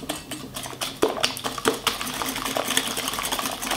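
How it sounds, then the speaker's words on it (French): A whisk beats a cake mixture in a bowl for almond pie, giving a steady, fast, close clatter of wire against the bowl with no voices. "Donc maintenant on va fouetter"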